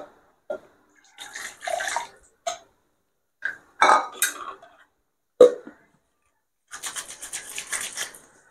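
A mixer grinder jar being rinsed with water, heard as short splashing and sloshing bursts broken by silent gaps, close up, with a few brief clunks of the jar.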